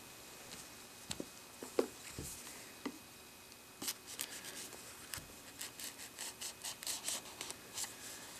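A cutter scratches and slices through shrink wrap on a boxed white 64GB WiFi Apple iPad 2. Short, soft rasping strokes come close up and quiet, with a run of quick rustles toward the end.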